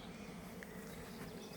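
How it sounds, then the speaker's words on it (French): Honey bees hum steadily at a hive, a soft continuous buzz with no pauses, low in level and fairly close throughout. "Il y a même des abeilles qui viennent sur moi et qui ne font rien du tout."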